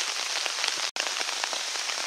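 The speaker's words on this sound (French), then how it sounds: "il pleut quand même pas mal" Rain drums on a tarp strung over a hammock at a forest bivouac, a dense, steady patter of close drops, loud and even, with no voices.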